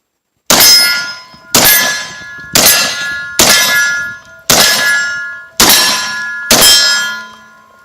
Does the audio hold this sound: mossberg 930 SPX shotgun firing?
yes